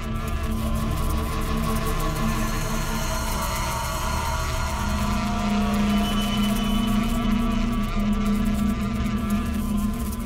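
Bees swarm around a beehive in a constant loud droning buzz, dense and close, holding steady without a break.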